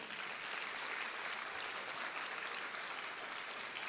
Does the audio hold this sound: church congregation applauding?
yes